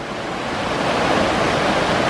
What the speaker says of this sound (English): that's one of the biggest waterfalls we've ever seen.